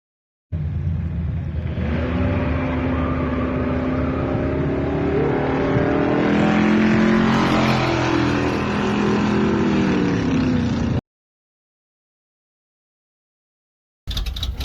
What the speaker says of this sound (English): Warming up my hot rod to put her away for the season.